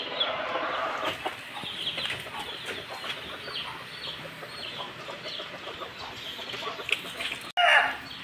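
A pumpkin hatch hen clucks steadily while laying eggs in a backyard coop, repeated clucks close by with a short louder burst near the end.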